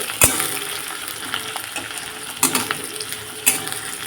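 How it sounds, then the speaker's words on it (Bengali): Onions sizzling steadily in a pan for a mutton dish, with a spatula stirring them and three sharp metallic clinks against the pot, close and with no voices. "পেঁয়াজটা দিয়ে আমি বেশ কিছুক্ষণ নাড়াচাড়া করতে থাকবো"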